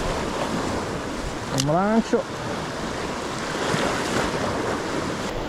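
Low summer sea waves wash steadily onto a clear-water shore, a continuous close rushing surge roughened by wind buffeting the microphone, while someone speaks briefly over it.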